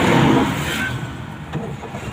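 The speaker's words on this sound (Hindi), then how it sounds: "ये स्टार्ट हो गई गाड़ी।" A car engine catching and starting after a fuse was replaced, a brief burst of cranking that settles into a quieter running rumble, fairly close.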